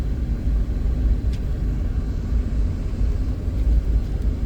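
A 1990s all-wheel-drive project car on the road, heard from inside as a steady low engine rumble and road roar with no pauses.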